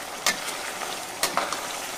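Potatoes frying in oil in a pan for aloo fry, a steady close sizzle broken by a few sharp scraping strokes as a spatula stirs them.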